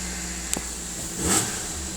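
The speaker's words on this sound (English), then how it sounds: "Nice perky little engine in this" A Suzuki Wagon R's small timing-chain engine idles steadily, then gives a brief rev before settling back to a smooth hum.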